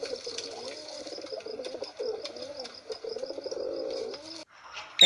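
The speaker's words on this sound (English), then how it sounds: "Pigeon sound is cooing." Pigeon cooing, a soft rolling series of low coos running continuously for several seconds, moderately near with faint chirps in the background and no speech.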